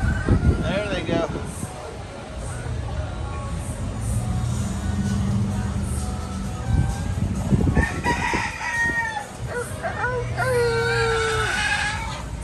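Roosters crow repeatedly among a flock of chickens roaming loose around a Key West venue, the calls loud and close over steady crowd chatter and talking nearby.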